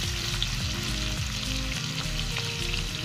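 Onion frying in oil for Khandeshi pea rice gives off a loud, dense, steady sizzle close by, with a low rumble underneath and no talking.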